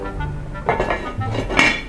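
Metal lid set onto a pot of oxtail soup after the boil is switched off: several clattering metallic clinks and knocks close by, with a sharp final clank near the end.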